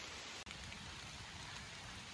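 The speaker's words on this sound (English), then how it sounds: "It's pretty rainy right now" Rain falling in the woods of Western Maryland in September: a soft, steady hiss of drops on leaves and ground, continuous and fairly faint, with no voices.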